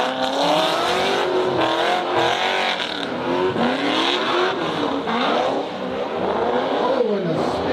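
Drift cars at a competition engines screaming and revving as they slide with a handbrake pull into a spin, loud and continuous with tires squealing and the pitch rising and falling.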